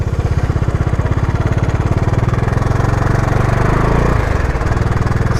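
A Bajaj Dominar 400 BS6 2021 motorcycle engine with an abnormal, generator-like noise runs steadily close by, a loud, even rhythmic thrum that dips briefly near the end, with no talking.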